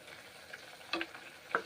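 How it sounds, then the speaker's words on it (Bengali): Bitter gourd (karela) slices frying in a pan with a soft, steady sizzle, broken by two brief scraping clinks as the pieces are stirred. "নেড়ে চেড়ে ভেজে নেবো, শুকনো শুকনো করে একদম করলাগুলোকে আমি ভেজে নেব"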